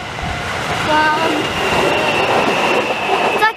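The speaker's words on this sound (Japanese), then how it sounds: "なんか電車が来ています。" A JR train arrives at Tsushimanomiya station, a small rural stop in Kagawa, with a rolling rumble, brief high brake squeals and wheel noise that builds through the clip, loud and close, with a single spoken syllable.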